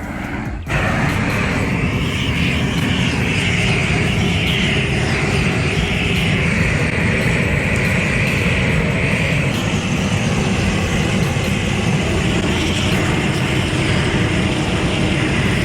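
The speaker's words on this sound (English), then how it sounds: "We got this torch from Harbor Freight connected to a propane tank." A propane torch from Harbor Freight, hooked to a propane tank, roars loudly and steadily as it blasts backyard weeds, a continuous close jet-like rush with no talking.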